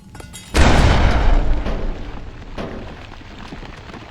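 A grenade goes off in the video game Fallout New Vegas, a sudden loud, close boom after a brief quiet lead-in, followed by a rumbling, crackling tail that fades over a few seconds.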